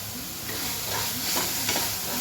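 Tomato masala with salt frying and being stirred in a pan for an aloo matar curry, with a steady close sizzle and the soft scrape of the spoon moving through it. No one speaks.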